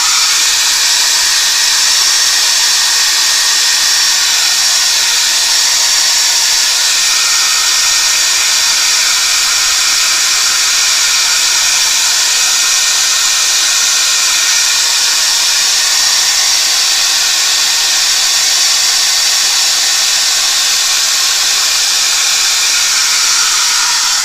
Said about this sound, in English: I'm going to blow dry that because it's still a little bit wet there